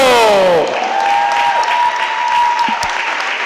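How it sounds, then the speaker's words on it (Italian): Spectators applaud the winning futsal team at a Serie D cup ceremony in the Venice area, a loud continuous burst of clapping that opens under a brief sweeping tonal sound. "Un grande applauso per il Martellago"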